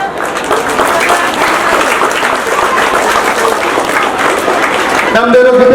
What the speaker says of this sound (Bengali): তোমরা যদি একটু করতালি দিয়ে অভিনন্দিত করো তাহলে ওদের উৎসাহটা বাড়ে